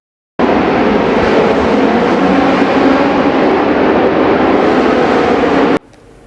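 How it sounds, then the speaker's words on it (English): Historic racing car engines at the Monaco Historic Grand Prix blast past as one loud, sustained roar with a heavy low rumble, holding steady for about five seconds before cutting off abruptly. "That extraordinary sound of the engines that you feel in your chest before you can even see the cars."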